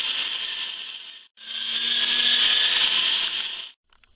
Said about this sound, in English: I'm just going to mince through a pound of onion